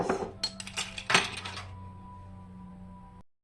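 Vanilla buttermilk cake batter being mixed in a bowl with an electric mixer, clinks and scrapes in the first second and a half, then a steady motor hum alone until it stops.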